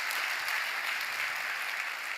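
A church congregation applauding the choir and its conductor at a Sunday worship service, dense and steady clapping that fills the whole moment.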